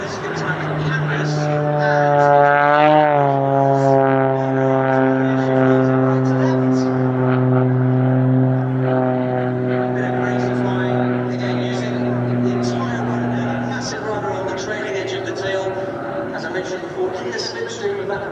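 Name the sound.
propeller aircraft performing aerobatics at an airshow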